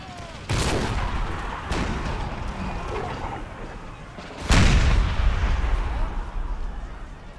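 Musket volleys and artillery fire in Empire: Total War, with two heavy booming blasts a few seconds apart, each trailing into crackling gunfire and a rumbling decay, loud and close.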